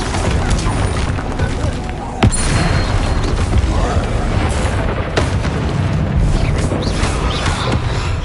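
Confringo fire spell detonating in the Hogwarts Legacy video game, a sharp boom around two seconds in over a continuous roar of combat effects and rumbling blasts that fill the whole stretch.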